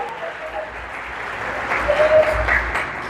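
A church congregation applauds steadily in a large room, clapping swelling slightly midway, with faint voices mixed in.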